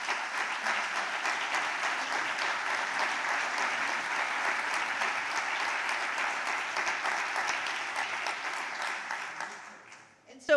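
Steady audience applause for Elena at the European Heritage Excellence Day 2025 ceremony, a full, even wash of clapping that holds for about nine seconds before tapering off near the end.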